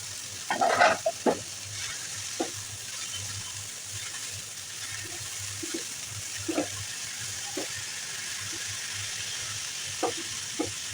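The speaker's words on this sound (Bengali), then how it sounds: "লাল শাক ভাজা হয়ে গেছে" Red amaranth greens with green chilies fry in a pan, giving a steady soft sizzle broken by a few clattering stirs near the start and scattered scrapes later.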